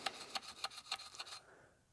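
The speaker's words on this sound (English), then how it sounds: "I'm just going to take a little brush" A small brush scrubs out a part from a Coleman double-mantle lantern, making about six quick, faint scratchy strokes in a regular rhythm, close up.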